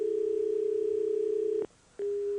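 Steady telephone line tone, a continuous hum broken by a brief gap before resuming, heard alone with no talk while a call-in caller is being connected on a Hindi astrology phone-in program.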